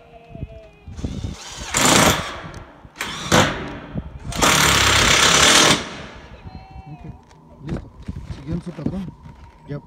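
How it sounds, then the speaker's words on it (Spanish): Screws driven into a metal sheet roof on a mobile home, heard as several loud, sustained bursts of power-driver whine and rattle separated by quieter pauses with handling clatter, close by. "Poniendo esos tres tornillos, listo."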